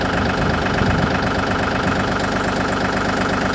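A Mahindra 4035 Power Shuttle tractor engine idles loudly and steadily nearby in neutral, a constant chugging rumble with a rhythmic knock and no voices.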